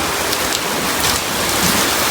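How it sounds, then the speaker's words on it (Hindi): Dense, loud hiss of heavy rain pouring down continuously in a sudden storm, drumming on surfaces without a break. "देखो गाइस पूरी एकदम से पता नहीं इतनी तेज़ बारिश आ गई।"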